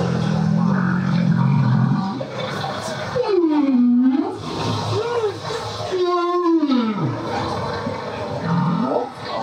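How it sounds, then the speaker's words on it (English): Humpback whales off Puerto Vallarta, Mexico, picked up by a microphone dropped into the ocean, let out long moaning calls that swoop up and down, over a constant underwater rush. "drop a microphone in the ocean so you could hear the"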